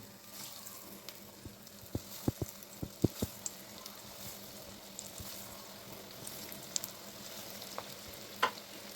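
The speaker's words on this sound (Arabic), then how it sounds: "دابا انا غنقليهم ومن دغيا كيطيبوا" Potatoes frying in hot oil, a soft steady sizzle with scattered crackles and pops, some louder, and a few light clinks, no talk.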